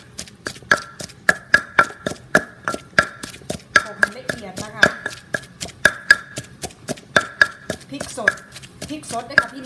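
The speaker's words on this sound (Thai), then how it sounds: "หลังจากที่คั่วพริกเรียบร้อยนะคะก็นำพริกมาโขกค่ะ" A pestle pounds fresh chilies, shallots and garlic in a mortar for Isan-style chili paste, with loud, close thuds in a quick, steady rhythm throughout and a few softer knocks between them.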